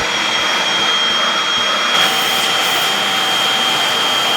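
Uwant B300 Pro and Bissell carpet cleaners running side by side, a steady loud motor whine and rushing suction roar with a high tonal hum, continuous throughout with a slight rise partway.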